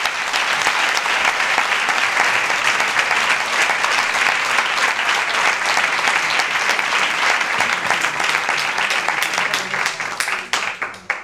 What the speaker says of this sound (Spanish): un fuerte aplauso y un abrazo y lo que queráis para Ana María Marín.